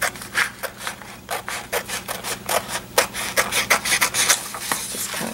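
Washi tape edges on a journal page are trimmed in quick, irregular bursts of close, scratchy cutting and rubbing, each stroke short and papery with small gaps between.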